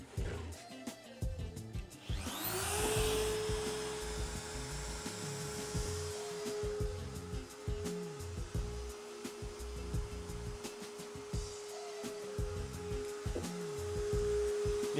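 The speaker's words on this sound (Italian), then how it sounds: "prima guardiamo quanto rumore fa la fresatrice accesa senza la" CNC milling machine switched on and running idle without cutting, inside a homemade soundproofing enclosure; a steady whining spindle tone rises in at about two seconds and holds, with clatter and small knocks throughout.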